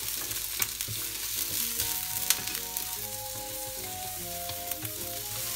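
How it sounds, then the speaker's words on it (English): Onion and carrots fry in hot oil in a frying pan, a steady crackling sizzle close up with small pops and occasional stirring clicks, while faint music plays underneath. "So fry pan is heated. I'm going to put the onion and the carrots."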